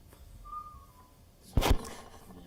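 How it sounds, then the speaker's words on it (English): A single short whistle rises faintly across a quiet town council chamber, followed by a sharp burst of louder noise nearby. "Who whistled?"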